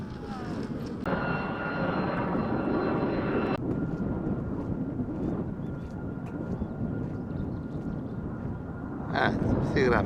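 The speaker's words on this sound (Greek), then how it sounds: "Μαθαίνουν να προσγειώνουν και να απογειώνουν αεροπλάνα." A small training airplane flies overhead while practising landings and takeoffs, its steady engine drone rising and fading across the whole stretch, with wind buffeting the microphone and a brief tonal whine early on.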